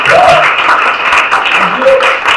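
A church congregation at a Sunday service applauds and cheers, loud sustained clapping filling the room while voices shout and talk over it.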